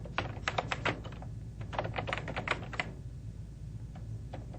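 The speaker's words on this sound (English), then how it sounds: "I can hit the End key, END End key, on the keyboard" Computer keyboard keys clatter in quick irregular bursts of crisp clicks, close and clear, with a brief pause before a few final taps.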